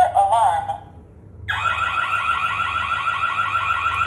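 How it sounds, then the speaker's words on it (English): A security panel tamper alarm warbles briefly, drops away for a moment, then resumes as a loud continuous beeping tone that keeps sounding close by. "Panel alarm"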